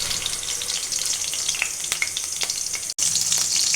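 Mutton vada frying in hot oil on a low flame, a steady bright sizzle with crackling pops, close and continuous, briefly cut off once before resuming.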